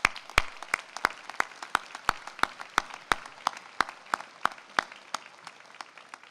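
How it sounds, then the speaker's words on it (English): Slow, evenly spaced claps ring out one by one at a graduation ceremony, sounding like just a few people applauding in a quiet room. "Give yourselves a round of applause for such a terrific achievement."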